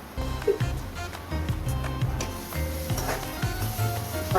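Paneer bhurji sizzles steadily in a pan while being stirred, with scraping spoon strokes and soft clinks over a continuous frying hiss, close and moderately loud with no talking.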